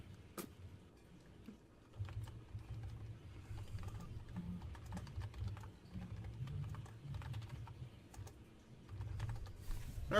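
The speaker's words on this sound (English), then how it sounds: "Are you, like, typing something over there?" Keys clatter on a computer keyboard in quick irregular bursts, faint and somewhat distant, over a low background hum with no speech.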